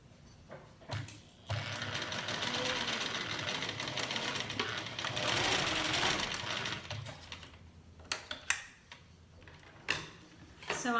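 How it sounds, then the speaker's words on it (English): A sewing machine stitches pockets onto a pillowcase in a steady rapid run of several seconds, followed by short bursts and clicks as the fabric is adjusted, close and clear. "as I'm sewing these pockets where I want to leave it open, I'm actually going to stitch backwards a little bit"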